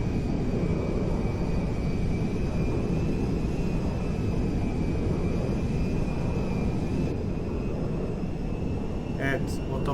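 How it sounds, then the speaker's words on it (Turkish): A large firefighting water-bomber aircraft in GTA 5 flies with a steady, loud engine drone that holds constant for the whole stretch, broad and unbroken, with a faint whine riding on top. "uçağın tam altında gördüğünüz gibi kırmızı noktada e, suyu boşalttığı alan burada yer alıyor"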